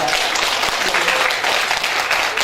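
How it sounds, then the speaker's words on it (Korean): A hall audience at a year-end charity concert welcomes a guest with dense, steady applause, a continuous wash of many hands clapping throughout. "박수를 한번 맞이해 주십시오."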